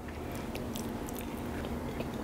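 Cooked squid is bitten and chewed close up, giving soft, quiet, continuous wet chewing with faint crunchy clicks and no talking.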